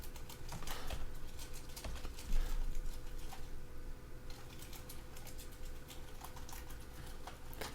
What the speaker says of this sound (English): You hear a typewriter?